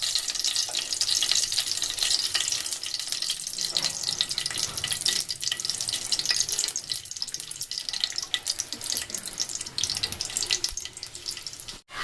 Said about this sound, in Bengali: এবার খুব সুন্দর করে এটাকে ভেজে নেব, জিরের আর শুকনো লঙ্কা একটা সুন্দর গন্ধ আসা পর্যন্ত।